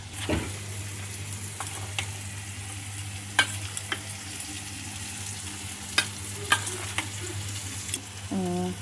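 Paneer curry mixed with yogurt in a pan gives a low sizzle with scattered sharp scrapes and knocks of a spoon against the pan, closing with a brief clatter.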